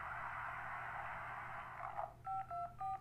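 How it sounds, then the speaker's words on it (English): Telephone keypad tones from the 911 Operator game: after a stretch of hiss and static, three short dual-tone beeps sound in quick succession, fairly loud and clear, with no one speaking. "If you can't talk, please press any digit on your phone"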